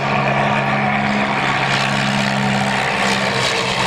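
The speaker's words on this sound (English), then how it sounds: "It was test flown by the great Geoffrey de Havilland himself in April the 18th of that year" A vintage de Havilland aircraft built at Hatfield in 1936 drones at an August 1997 air show in Abbeyshrule. The propeller engine hums steadily and loudly throughout, with no voices.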